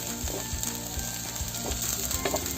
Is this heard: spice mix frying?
yes